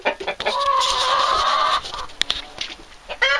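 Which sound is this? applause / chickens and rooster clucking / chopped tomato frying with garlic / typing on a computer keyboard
chickens and rooster clucking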